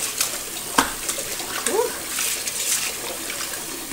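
Water runs and splashes steadily in a basin while wool knitwear is rinsed, close and fairly loud, with brief voices, including a child's, over it.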